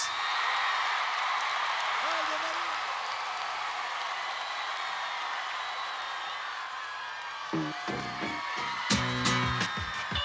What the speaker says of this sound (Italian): accoglietelo con un grande, grande applauso